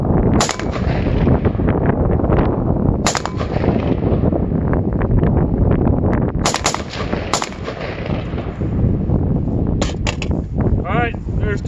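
A PSA 10.5 rifle fires during shooting drills: rapid strings of loud, close shots run almost continuously, with brief pauses between bursts.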